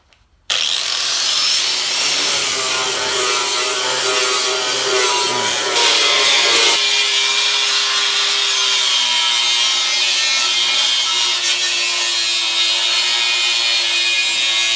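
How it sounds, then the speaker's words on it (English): An angle grinder cleaning a rusted Toyota truck frame ahead of welding, starting abruptly with a loud, continuous high-pitched grinding whine that holds steady and close throughout. "So I'm gonna grind everywhere where I'm welding, basically, get all this all cleaned off."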